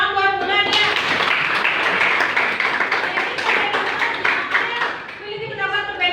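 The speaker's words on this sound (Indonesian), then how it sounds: "Ya, tepuk tangan buat Bulan ya." A classroom of students claps for a classmate, a brisk, moderately loud patter lasting a few seconds, with a teacher's voice heard before and after.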